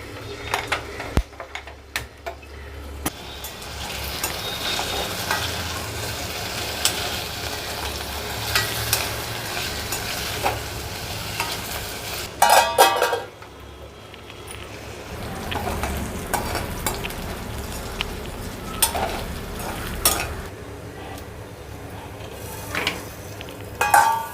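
Cut potatoes sizzle and fry steadily in a pan for a potato and okra dish, with repeated scraping stirs, utensil clinks and brief louder bursts of spatula work throughout.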